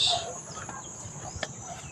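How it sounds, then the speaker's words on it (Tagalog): A couple of chickens in a coop cluck briefly and faintly in the background of an outdoor yard. "May manok na to"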